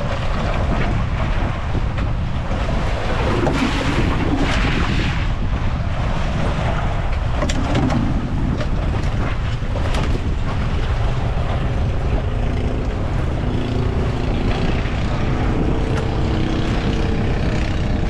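Steady wind buffets the microphone with a continuous roar, mixed with the rush of water and a boat's motion, with no voices.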